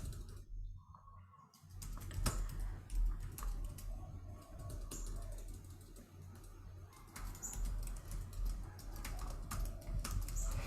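Typing on a computer keyboard during a skills workshop session, a steady run of soft clicking keystrokes at close range over a low background hum, with a brief quiet gap near the start.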